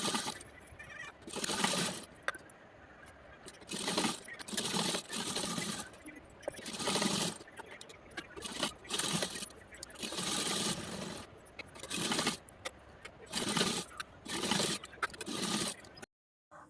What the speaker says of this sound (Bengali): আগে আমি ব্লাউজের মেন কাপড় আর লাইলিন ভালো করে সাইডগুলো সেলাই করে নেব, যাতে সরে না যায় একটুও।